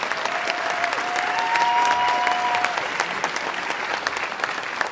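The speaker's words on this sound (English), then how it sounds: "we need to give them a big round of applause" A dense, steady wash of audience applause at a political speech by Elizabeth Warren, loud and continuous for about five seconds, with a faint whistle rising over it early on.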